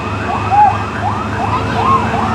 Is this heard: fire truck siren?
yes